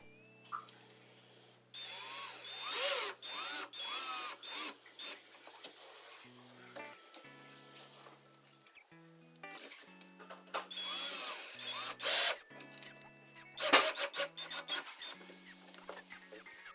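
Short bursts of a power drill driving screws into a wall to mount an Ecobee thermostat backplate, several close, separate runs of whirring with brief pauses between them, no talk.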